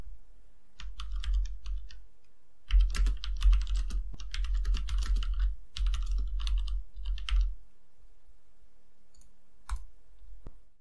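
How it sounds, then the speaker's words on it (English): Text is typed on a computer keyboard in rapid, dense clattering runs of keystrokes, broken by short pauses and a few lone clicks, close and clear with no talking. "then I'll type in some text for him to say"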